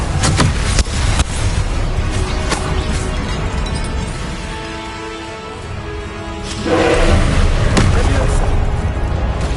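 Expelliarmus spell cast during a Hogwarts Legacy duel: sharp magical bursts and booming impacts crack out over a loud, continuous rumble of combat, with a surge of noise near the end.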